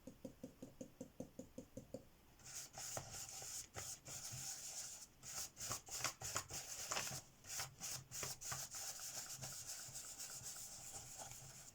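Dry gel crayon rubs across paper in a background demo, first a run of quick regular strokes, then faster, denser scratchy scribbling up close with no talk.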